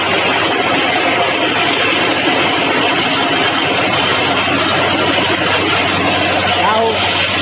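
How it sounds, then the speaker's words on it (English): An engine on a lab test bench runs steadily and loudly as load is applied, a dense continuous roar with a low hum underneath and voices talking over it. "Now we are loading the engine."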